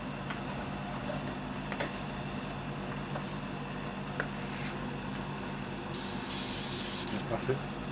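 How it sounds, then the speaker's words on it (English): Airbrush or spray can hissing onto a 1/6 scale Wonder Woman figure, a steady close hiss under faint background, with a louder burst of spray near the end. "Let's spray."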